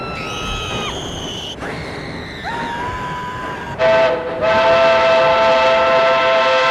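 A train pulls in within the video game Infinity Nikki, its steam whistle sounding in several loud, sustained blasts that step in pitch, followed by a brighter, steady whistle over rolling railway noise.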